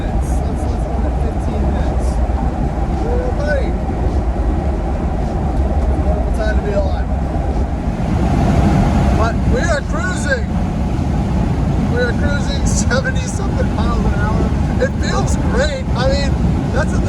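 An old Range Rover with early-90s Old Man Emu suspension and mud tires cruises on a highway, a loud continuous engine and road rumble with wind noise, while someone talks over it.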